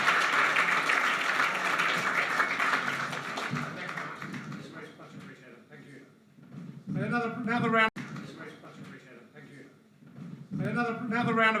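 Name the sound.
audience applause for speaker Mark from Auspec Solar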